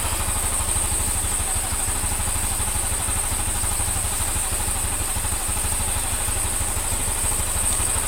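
A Honda Scoopy scooter with a KOJ-code engine runs steadily at idle after being repaired, its low, even mechanical thrum and faint clatter continuing without a break at close range.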